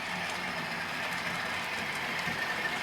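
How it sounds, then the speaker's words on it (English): A Bachmann digital Class 47 model locomotive with sound running around a layout, a steady diesel drone with faint rhythmic wheel clicks, continuous and fairly close, with no talking. "our digital class 47 with sound going around"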